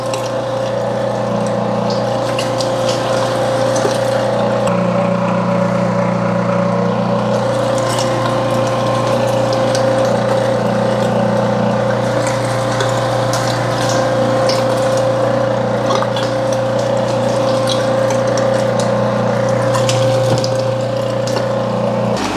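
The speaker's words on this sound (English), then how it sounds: "This particular grinder will take meat just as quick as I can drop it down into the tube." An electric meat grinder grinds 15 pounds of deer meat for sausage patties, giving a loud, steady motor whine with a constant hum that runs unbroken throughout, with no talking.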